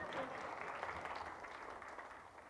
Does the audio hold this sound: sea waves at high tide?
no